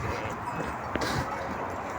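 A dog barks once or twice in the distance over a steady outdoor background at a goat and livestock farm, with faint rustling and no other clear sounds.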